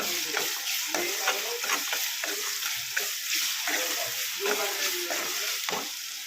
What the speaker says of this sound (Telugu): ఆనియన్స్ అండ్ మిర్చి బాగా ఫ్రై అవ్వాలి.